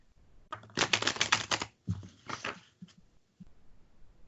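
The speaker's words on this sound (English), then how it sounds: "Let me shuffle the cards." Quick papery riffling of tarot cards being shuffled in two bursts, a longer one then a shorter one, close by and fairly quiet, with a few soft taps after.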